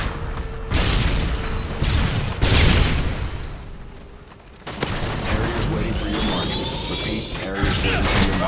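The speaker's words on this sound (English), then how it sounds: "Throwing a stun grenade!" A stun grenade going off in Modern Warfare 2 search and destroy on a trailer park map, loud booming blasts amid bursts of gunfire, with a brief lull before the chaotic noise returns.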